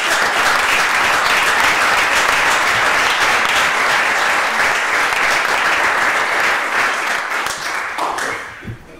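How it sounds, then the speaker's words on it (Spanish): An audience applauding for Marisol at a book presentation, a dense, steady roar of many hands clapping that holds loud and continuous before tapering off at the very end. "Pero primero un aplauso, Marisol."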